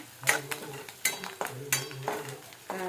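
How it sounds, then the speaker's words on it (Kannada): A spoon stirs fresh curry leaves in hot oil, a rhythmic series of scraping strokes against the pan about every half second over a faint sizzle. "ಇದಕ್ಕೆ ಒಂದು ಸ್ವಲ್ಪ ಕರಿಪತ್ತ ಹಾಕೋತೀನಿ ರೀ"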